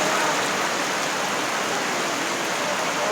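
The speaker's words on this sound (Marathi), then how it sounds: "धोधो पाऊस पडला धोधो पाऊस पडला भरपूर पाऊस पडलाय" Torrential monsoon rain falls over a Konkan village, an even, unbroken hiss of downpour with no voices.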